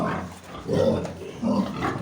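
Pig on a farm making low grunts in two short bursts, close and fairly loud, with quieter breathy sounds between them.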